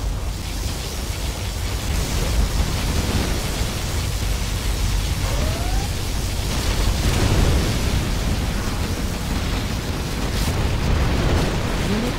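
Heavy rumbling blasts and booming explosions from a particle cannon in Command & Conquer Generals Zero Hour roll on continuously amid dense noisy game action, loud and close with no clear speech.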